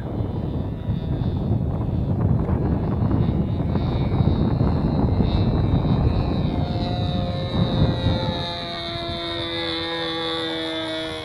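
A Sig Smith Miniplane model airplane engine drones steadily in flight at Hemet Model Masters, California, a continuous buzzing whine with wind noise that shifts in pitch as the plane passes and then fades farther away.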